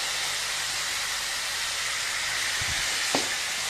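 Onions, green chillies and capsicum sautéing in a pan for a prawn masala gravy, giving a steady close sizzling hiss that runs throughout with a couple of brief clinks near the end.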